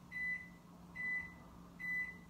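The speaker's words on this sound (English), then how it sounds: "I currently have food in the microwave because I haven't eaten lunch." A microwave oven heats food, giving three evenly spaced electronic tones of about a third of a second each over a low steady hum, fairly faint and close, with no talking.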